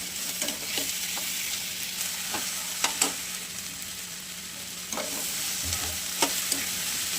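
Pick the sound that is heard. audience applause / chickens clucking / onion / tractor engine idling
onion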